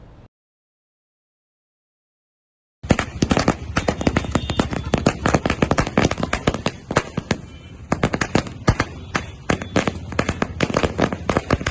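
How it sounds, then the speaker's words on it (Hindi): Fireworks set off by TRS party supporters celebrating in honor of the chief minister: after about three seconds of silence comes a loud, dense barrage of rapid cracks and bangs that continues without a break to the end. "आतिशबाजी करते हुए अपनी खुशी जाहिर की।"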